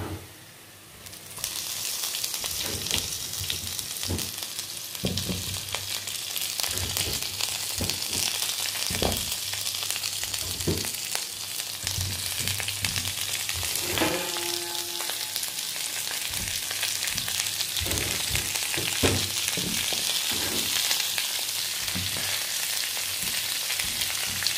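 Vegetables for a curry cook slowly in a pan over low heat, a steady soft sizzle and crackle running throughout with small pops, heard alone at moderate volume.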